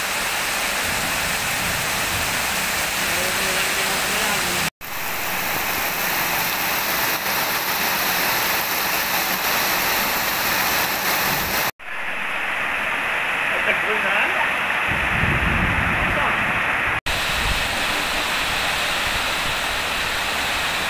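Heavy downpour in rural Devipatnam farmland, a steady dense roar of rain close and loud throughout, broken by a few abrupt cuts, with a brief low rumble near the end.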